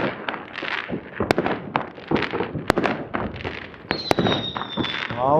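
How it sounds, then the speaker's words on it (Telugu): Firecrackers and fireworks going off in the Kuwaiti desert at Kairan, a rapid, irregular series of loud sharp bangs and crackling bursts, several very close, with a whistling rocket rising near the end. "టపాసుల పండగే."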